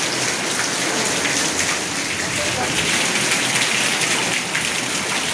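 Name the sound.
rain falling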